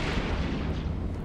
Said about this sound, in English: Big missile hits on the shields.